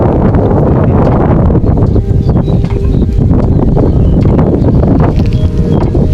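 Strong wind roars steadily across an open rice field during dry-season sowing, a loud, constant buffeting rush with gusty rustling that fills the whole stretch.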